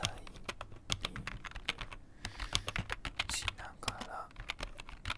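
Close, soft typing on a computer keyboard for ASMR: a dense, irregular patter of light key clicks while someone speaks quietly over it.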